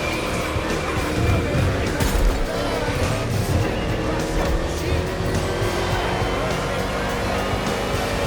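NASCAR race cars roar through an urban street race in Honolulu, Hawaii, in The Crew Motorfest, the engine noise loud and sustained with passing surges, under a voice talking throughout.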